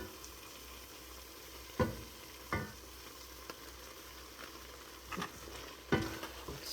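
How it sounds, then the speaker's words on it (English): Carrot cake jam with Sure-Gel pectin cooks in a pot while a spoon stirs it, giving soft sizzling and bubbling with a few sharp scrapes and clinks against the pot, quiet and close. "you're just going to stir up the Sure-Gel until it dissolves"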